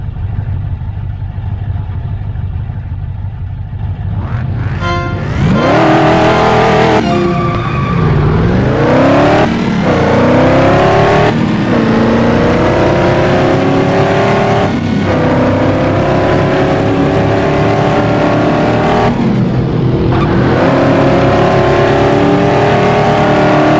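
Race car engines roar and rev in the Ford Racing 2 video game, with repeated rising pitch sweeps as gears climb and drop, loud and continuous, with brief squealing bursts between shifts.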